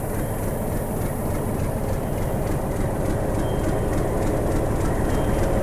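A WDM4 diesel locomotive running at a station in Gujarat, a steady loud rumbling drone with a dense mechanical throb, close by and unbroken, with no talking.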